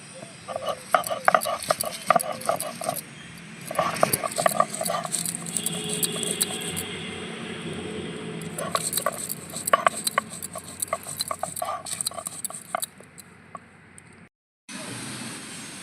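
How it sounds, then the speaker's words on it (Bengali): Dried red and green chillies being ground into a paste, likely on a stone slab: a close, uneven patter of scraping and clinking strokes that runs on for a while, then drops to near silence. "এবার কিছুটা শুকনো লঙ্কা আর কয়েকটা কাঁচা লঙ্কা আমি বেটে নেব"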